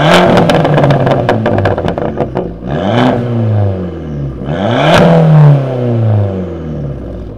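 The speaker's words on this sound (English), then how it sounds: "Right, so that was the Abarth exhaust sound." A 1.4 turbo Abarth 500 exhaust revs loudly up close, with rapid crackling pulses at the start followed by two rising and falling revs, a sustained engine roar with no talking.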